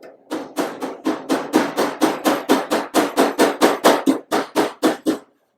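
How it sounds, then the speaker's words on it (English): Rapid, evenly spaced hammer blows from the hammer's tip ringing on metal during welding fabrication, about twenty sharp strikes in a steady rhythm, close and loud, then stopping. "I'm going to take the tip of this hammer."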